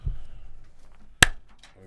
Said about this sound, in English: I don't feel like you're loud. Clap test.